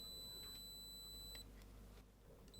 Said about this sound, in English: If a diode is shortened, you get a beep and this symbol.